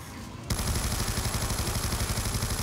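Rapid automatic gunfire from Black Ops 2 Zombies fills the clip after a brief quieter start, a dense, loud, steady burst of shots with no talk.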